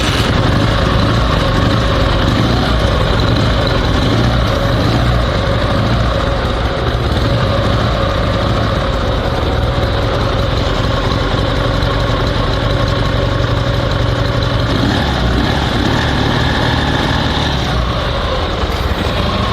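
The engine of a survival sidecar motorcycle with a modern ignition system idles steadily and loudly from start to finish, a constant close mechanical rumble with no gaps.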